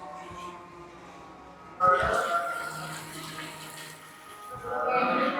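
Water is poured into a pot of bottle gourd and potato curry, starting with a sudden splashing rush that settles into a steady, moderately loud pour and then swells again near the end.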